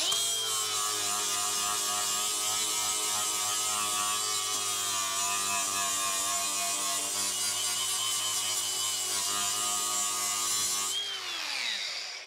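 A power grinder whines continuously against the metal body of a 1968 Camaro for about eleven seconds, loud and close, then winds down at the end.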